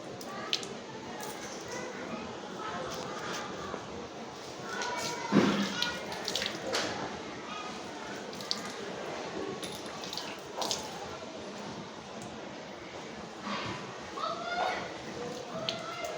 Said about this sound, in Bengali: এই যে আমি এখন মুখ ধুচ্ছি।